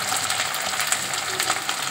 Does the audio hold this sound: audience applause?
no